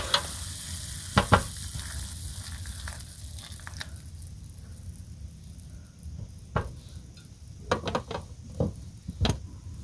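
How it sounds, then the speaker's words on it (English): A one-pot Thanksgiving meal with butter seasoning is stirred in a pan inside a van, giving a soft low sizzle broken by sharp scraping and clanking spoon strokes in short bursts near the start and toward the end. "And give that a stir."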